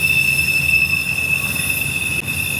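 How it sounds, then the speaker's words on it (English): A train's wheel squeals on the Horseshoe Curve in Pennsylvania, a piercing sustained high-pitched screech over a low rolling rumble from the passing railcars. "Definitely a squealing wheel right there, Hot Wheel."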